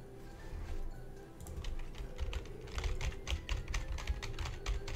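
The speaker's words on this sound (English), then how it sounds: "You're just typing softly on the keyboard." Soft typing on a computer keyboard gives a steady stream of light, quick key taps, close and fairly quiet over a low background hum, with no talking.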